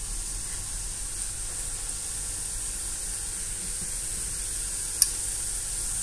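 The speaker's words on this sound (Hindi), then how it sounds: "देखंतु एमती करके आमे पकेद सीधा डायरेक्ट गरम तेल रे, जालटा पूरा हाई रखिबा" Besan dantikili, small Oriya gram-flour snacks, fry in hot oil over high heat with a steady, even hiss of sizzling bubbles and one brief clink, close and constant.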